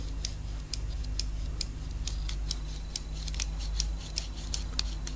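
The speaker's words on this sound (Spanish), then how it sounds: "Ese clic que realiza el relé lo debemos oír sonoramente, lo debemos oír fuerte." An electrical relay being tested clicks repeatedly as it switches, a string of sharp, irregular ticks over a steady low electrical hum, with no talk.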